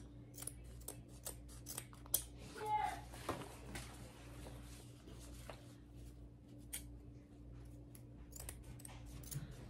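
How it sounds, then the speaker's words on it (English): Scissors snipping through ribbon to size for a bow, a few crisp cuts close up amid soft handling noises and quiet room hum. "Cut the ribbon according to whatever size you want the bow."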